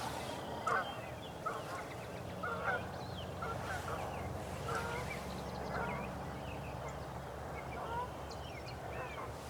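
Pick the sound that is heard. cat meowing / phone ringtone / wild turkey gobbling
wild turkey gobbling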